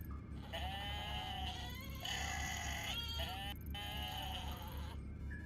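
Goats from the GTA Online video game bleat in a steady series of loud, wavering, nasal calls that overlap one another over a constant low background hum, close and continuous.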